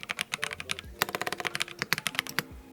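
Fast typing on a ZZANEST Elements 75XT aluminum mechanical keyboard with sound-absorbing foam, a quiet, close run of crisp, slightly muted key clicks in an uneven rhythm, with a few louder strikes.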